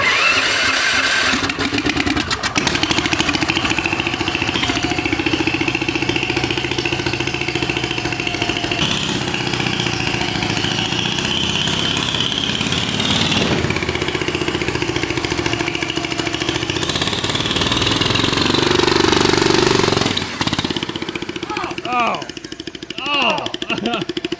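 A turbocharged engine on a coffin-shaped go-kart cranks and then runs loud and close for a long stretch, a rough steady drone with rising revs and a whistling turbo. Near the end it drops off and voices are heard.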